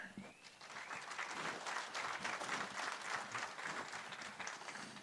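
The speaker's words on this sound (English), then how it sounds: "You're the only one they clap for." Crowd applause for an auctioneer contestant in the interview round of a world livestock auctioneer championship, a lively dense burst of clapping that swells and holds steady across the whole stretch.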